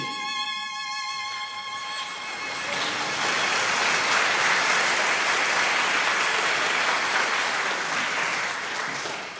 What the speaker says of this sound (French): le public l'acclama et applaudit